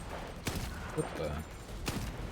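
Two distinct single gunshots in a first-person video game set on the road to Pripyat, spaced about a second and a half apart, close and sharp over faint background sound.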